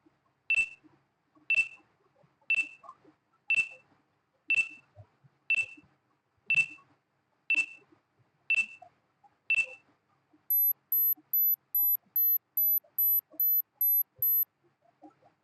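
A countdown timer beeping: ten evenly spaced sharp electronic beeps about a second apart, then a quick run of higher, faster pulsing tones to finish, clear and alone.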